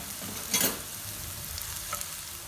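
Chopped onions frying in butter and oil in a pan, a steady soft sizzle with a brief louder stirring scrape near the start, no talking.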